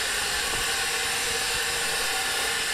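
Steam heating generator on a train venting at Toyooka station, a steady loud broadband hiss of escaping steam that fills the whole clip without pause.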